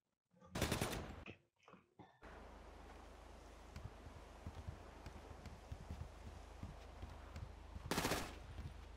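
Video game gunfire: rapid bursts crackle in short volleys, with a steady low hum and scattered clicks between the louder shots.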